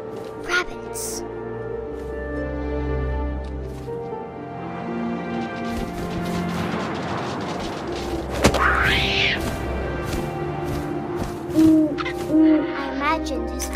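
An owl hoots repeatedly in the video game What Remains of Edith Finch, the calls set against a layered game score with occasional thumps.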